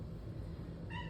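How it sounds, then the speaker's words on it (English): A house cat gives a single brief meow right at the end, close but soft, after a stretch of low room noise. "that was my cat"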